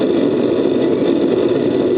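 Steady roaring hiss of a propane gas forge burner with a small blower motor running, a continuous even rush that holds at the same level without breaks, close by and with no talking.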